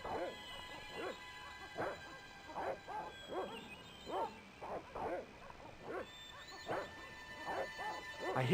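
Dogs in the video game Broken Sword: Shadow of the Templars bark in a steady series of about a dozen short woofs over a quiet background hum.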